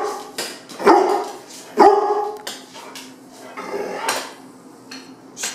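A dog barks on command at feeding time: two sharp, loud barks close by, followed by a few softer, shorter woofs amid light kitchen clatter.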